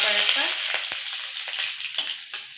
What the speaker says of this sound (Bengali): রসুনগুলো একটু লাল করে ভেজে নেব